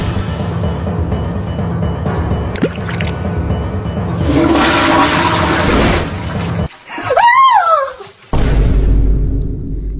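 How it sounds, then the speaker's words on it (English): A toilet flushes with a loud rushing swirl of water lasting a couple of seconds, preceded by quieter bathroom background noise, followed by a brief squeaky sound and renewed water noise. "Did you flush my wallet down the toilet?"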